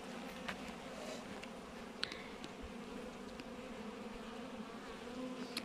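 Honeybees swarm around an open hive during a spring inspection, a steady low droning buzz filling the background with occasional louder passes of bees flying close by.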